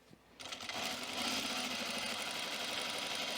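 A sewing machine stitches a seam on a Cameron button-up shirt, starting abruptly and then running at a fast, steady whir, close and clear with no talk.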